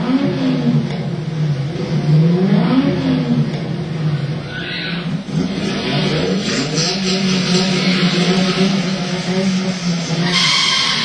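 An Aston Martin Vantage, a Caterham and a Porsche race hard, loud engines rising and falling through revs and gear changes, with tire squeal and skidding close by, continuous for about eleven seconds.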